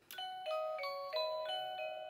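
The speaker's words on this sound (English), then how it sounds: "I think it's actually singing Jingle Bells" A small musical Christmas product from Bath & Body Works plays the Jingle Bells tune in bright, electronic chime-like tones, note after note at a steady pace, quiet and heard with no talking.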